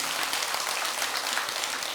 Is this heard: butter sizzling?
no